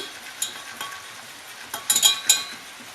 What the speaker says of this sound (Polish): na spienione masło wrzucam łyżkę mąki. Dokładnie mieszam.